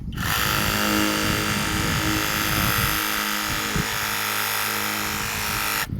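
A YOFIDRA cordless mini pressure washer with a brushless motor sprays a car with a steady, loud high-pitched whine and hiss, held close to the bodywork for about six seconds before cutting off.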